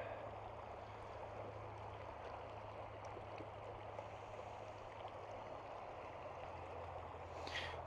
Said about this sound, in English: Yeah, water flow, bud.